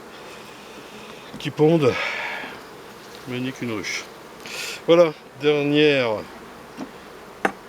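Honeybees buzzing as a beekeeper shakes frames from a hive, a continuous insect drone underneath while someone speaks in short bursts close by between quieter pauses.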